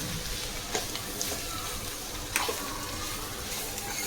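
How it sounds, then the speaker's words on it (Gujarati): Capsicum and corn tossed into a frying pan and stirred give a low, steady sizzle broken by a few brief scraping and clattering stirs. "કેપ્સિકમ નાખીશું નાખીશું આને મિક્સ કરી દેવાનું છે"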